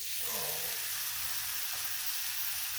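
Thick pork chops sizzle on a propane Blackstone griddle, a steady bright hiss close up with a faint low hum beneath and no speech.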